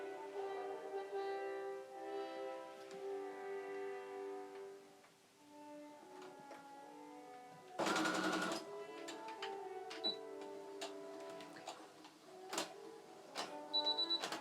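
Sewing machine stitching with bobbin thread while working on a Sailor Mars cosplay, a steady mechanical whir with rapid needle ticks, then a short loud burst of stitching followed by scattered clicks.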